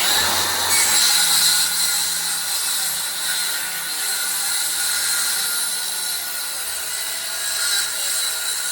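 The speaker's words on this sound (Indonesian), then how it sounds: "pertama nanti saya akan potong kayu jati ini tanpa menggunakan vacuum cleaner" Power saw cutting through teak wood in a small workshop, a steady loud high-pitched whine and rasp of blade on timber running throughout with no dust extraction attached.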